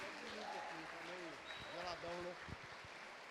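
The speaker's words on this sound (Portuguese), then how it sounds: "Uma salva de palmas para Jesus." Congregation applause during a church service in Belo Horizonte, fairly faint clapping from the pews mixed with voices and talk over it.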